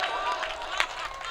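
An audience at a Hindi comedy poetry show claps in a steady, fairly distant patter of applause, blended with crowd murmur and voices throughout.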